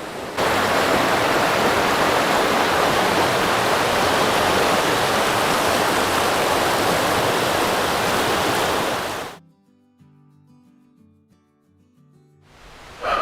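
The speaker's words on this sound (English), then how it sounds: "we've got a nice little view of rapids here in front of me" River rapids in the Dells of the Eau Claire give a dense, loud, steady rush of flowing water for about nine seconds. The sound then cuts out to near silence.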